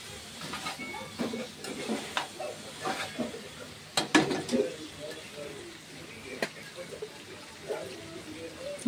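Mixed vegetables for a vegetarian panch phoron kochu chorchori fry in oil, with soft sizzling and intermittent scraping stirs from a spatula in the pan, fairly quiet with a few sharper clinks.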